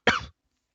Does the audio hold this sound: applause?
no